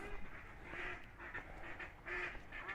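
Fussy ducks quacking beneath a wooden pier at a marina in Vico Equense, a cliffside town near Sorrento, Italy, in a few short bursts of calls over steady harbour background noise.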